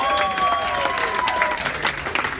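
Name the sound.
audience applause for a 21-year-old daughter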